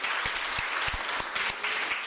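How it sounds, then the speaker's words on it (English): An audience applauds the program directors during a college research and innovation week event, a steady wash of many clapping hands with a few sharp, close individual claps standing out across two seconds. "can we please give them a hand of applause?"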